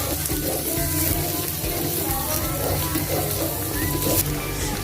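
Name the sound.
garlic and onion sautéing in a pan for menudo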